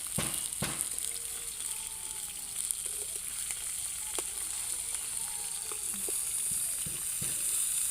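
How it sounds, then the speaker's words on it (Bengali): Tilapia fish fry in a pan over a brick wood-fired stove with a constant close sizzle. A few scattered knocks and clatters of the fish being flipped sit on top of the bubbling, and no one speaks. "এই যে এবার মাছগুলো উল্টিয়ে দিচ্ছি"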